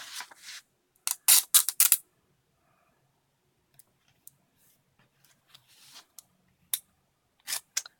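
Scissors snip through washi tape in quick crisp bursts, a cluster of cuts near the start followed by sparser, softer clicks and trims, close up with no talking.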